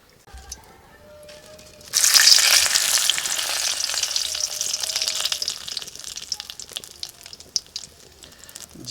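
Sugar dropped into hot oil in a pan while cooking a cauliflower and potato curry: quiet at first, then a sudden loud sizzle bursts out and settles into a steady, crackling fry.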